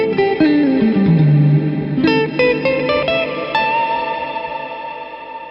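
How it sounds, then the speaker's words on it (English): An electric guitar plays through a GFI System Skylar reverb pedal with its high-end response turned up. A run of bright, shimmering notes blooms into a long, washy tail that slowly fades. "You can tell that it's a brighter reverb like this"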